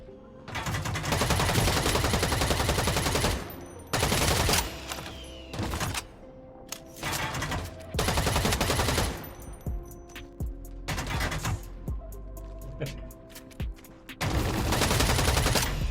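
Weapon fire in the sci-fi shooter EVE Vanguard: loud, close bursts of rapid automatic shots broken by short pauses, with several long sustained volleys and shorter rattling strings between them.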